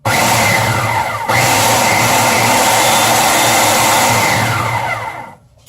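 A blender pulverizing oats roars loudly and continuously, a dense whirring grind that briefly dips, then runs on before winding down at the end.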